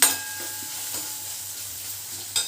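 Long-cut green chillies frying for soya chilli, a steady close hiss of sizzling oil with a couple of soft stirring scrapes and a clink near the end, no voices.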